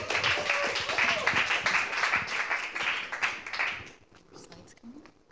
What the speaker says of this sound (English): everyone, round of applause.